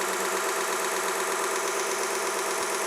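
A Vevor 1x30 belt grinder runs with a steady, loud, dense mechanical roar and whine that holds level throughout, with no talking.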